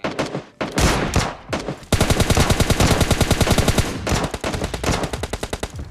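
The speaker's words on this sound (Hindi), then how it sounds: "देखो यहाँ पे लेफ्ट से M4 चला रहा है" M4 rifle gunfire in the video game PUBG Lite: a short burst of rapid shots, then a long sustained stream of fast automatic fire ending in quicker, choppier bursts, loud and close.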